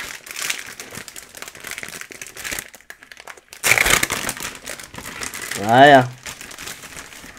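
Crinkly plastic wrappers of WWE trading card multi-packs rustle and tear up close in bursts, with a louder crumple near the end and someone briefly speaking French.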